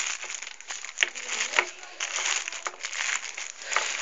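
Close, crisp crinkling and rustling of plastic foil being pulled off a Logitech K120 keyboard, with irregular bursts and small knocks.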